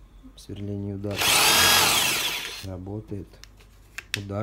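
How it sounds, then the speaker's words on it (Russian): Speech is cut by a short, loud rattling burst of a Bosch rotary hammer in hammer drilling mode, lasting about a second and a half, then talk resumes. "режим сверления удар"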